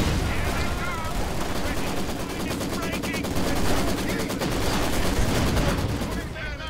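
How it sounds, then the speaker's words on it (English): An incendiary artillery barrage rages in a video game, a loud, continuous stream of rapid firing and booming impacts running the whole time, with a voice speaking underneath. "Launching incendiary artillery barrage"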